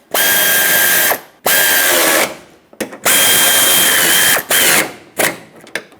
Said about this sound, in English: Once you have them started, snug them up.